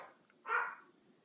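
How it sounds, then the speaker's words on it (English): One short, sharp bark from a pet dog indoors, moderately loud and standing alone against quiet room tone. "my dogs are going crazy"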